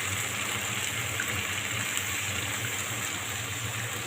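Water is poured into a pot of simmering chicken, making a steady, even rushing gush that continues without a break and with no talk over it.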